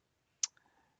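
A single sharp mouse click on a web form's submit button, crisp and isolated, followed by faint low-level room noise.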